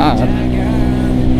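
A car speeding past on a road, a loud close engine roar and rush of motion over the whole brief moment, with a voice speaking over it.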